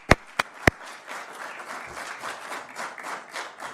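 Three sharp, loud hand claps open, then a steady wave of audience applause follows for twelve graduates at a police sergeants' course graduation ceremony, held at moderate volume to the end.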